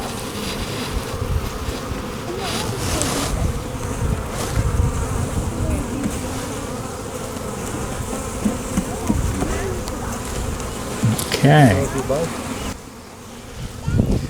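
Dense, steady buzzing of many honey bees close by as they are shaken down into a new hive, with a brief spoken word and some handling bumps.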